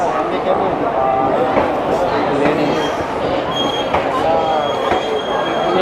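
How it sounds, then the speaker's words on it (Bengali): The Guruvayur Express pulls into a station with continuous rumbling, squealing wheels and metallic screeches, loud and close, while people talk over the noise. "ট্রেন আসছে, আর এই ট্রেন ধরে আমরা"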